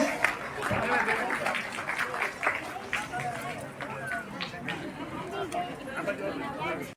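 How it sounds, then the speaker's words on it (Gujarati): A crowd at a community education prize distribution and guest honouring ceremony in Gondal claps in a dense, uneven patter, with people murmuring and talking underneath throughout. "મિત્રો તમામને આપણે જોરદાર તાળીઓથી વધાવીએ"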